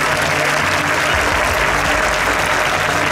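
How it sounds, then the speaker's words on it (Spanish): Audience applause at an evening show in a lakeside auditorium, a steady dense wash of many hands clapping that carries on for a few seconds with no voices over it. "cediendo la palabra a Violeta, quiero pediros un fuerte aplauso para toda la gente que hace esto posible"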